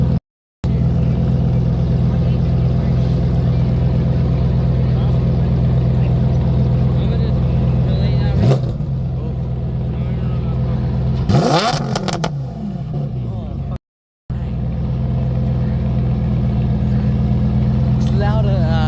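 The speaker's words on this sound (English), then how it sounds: "They're gonna rev their Urus too." A Lamborghini Urus SUV idles loudly outdoors at a Sports Car Sunday gathering, with a steady low engine drone and a sharp rev that rises and falls, while voices talk nearby.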